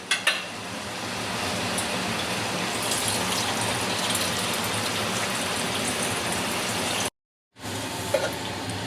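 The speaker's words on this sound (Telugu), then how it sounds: "మనకి కొంచెం గ్రేవీ కావాలి కాబట్టి మనమైతే కొంచెం వాటర్ పోసుకుందాం" Water pouring steadily into a pan, a continuous close rushing splash that cuts off briefly near the end, then resumes; no talking.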